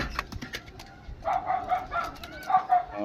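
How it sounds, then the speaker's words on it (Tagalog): Young pigeons squabbling at close range, with soft coos and quick flapping bursts that come in uneven clusters. "Sobrang tapang, nangangaway mga ibon."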